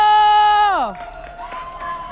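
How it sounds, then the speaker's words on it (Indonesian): Esports arena crowd at a Mobile Legends MPL Indonesia match applauding and cheering, a broad roar of clapping that follows a sustained musical tone that slides downward. "MPL Arena, minta tepuk tangannya!"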